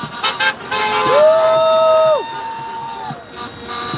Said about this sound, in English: honking.